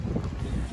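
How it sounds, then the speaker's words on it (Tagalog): Strong wind buffets the microphone in a steady low rumble outdoors at a condo development in Pasig, continuous and close, with no voices. "Lakas pa ng hangin dito."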